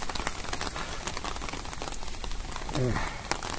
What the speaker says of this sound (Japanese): ちょっと雨が降ってるんでね。